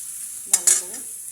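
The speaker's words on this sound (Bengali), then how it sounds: "লাল লাল করে একটু ভেজে নেব।" Soybeans with a little turmeric powder browning in a pan, giving a soft steady sizzle with two short sharp scraping stirs in quick succession.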